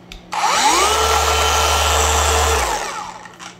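SPTA gear-driven cordless polisher run at its highest speed, a loud steady whine that spins up quickly, holds for about two seconds and then winds down, with no one talking.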